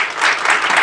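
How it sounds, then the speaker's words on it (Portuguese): An audience bursts into dense, steady applause to welcome a speaker at a conference session, loud and close, filling the brief moment without any voices. "Vamos receber, então, com aplausos, a senhora Marina Miranda"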